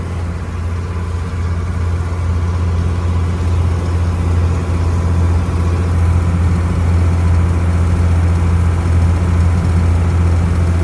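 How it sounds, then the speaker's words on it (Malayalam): Engine of a government passenger boat bound for Alappuzha in the Kuttanad backwaters, a loud, steady low drone that runs throughout without a break. "ആലപ്പുഴയ്ക്കുള്ള ഒരു സർക്കാർ ബോട്ട്."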